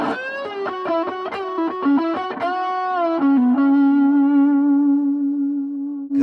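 Electric guitar through a Tube Screamer overdrive pedal with heavy compression plays a run of quick picked notes, then settles into a long sustained note that rings out smoothly with no talking.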